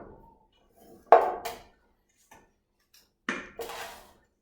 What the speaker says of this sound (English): what I'm going to do is I'm going to take my bread pan. Now you want to make sure that you grease it very well.